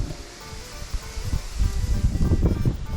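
A gust of wind sweeps through leaves during a fishing trip, a soft rushing rustle that swells and grows louder toward the end, with low rumbling buffets and no speech.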